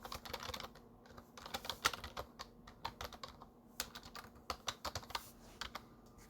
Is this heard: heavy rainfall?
no